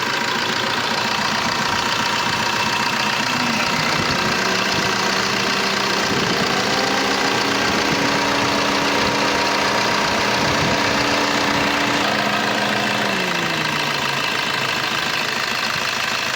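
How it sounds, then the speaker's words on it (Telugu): A 2018 Maruti S-Cross Zeta engine idles just after starting, a loud, steady close hum with a low rumble and a faint tonal whine that dips near the end, with no voices. "ఇంజిన్ స్టార్ట్ చేశాను"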